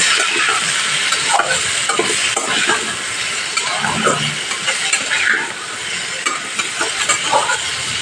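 Turmeric and salt sizzle and fry in a pan, with occasional stirring, for a steady close, bright crackle that runs throughout with no talk over it.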